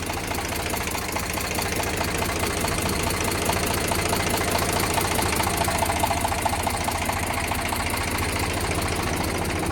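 A one-owner tractor engine idling with a steady, rough knocking chug, loud and close, running continuously with no voices over it.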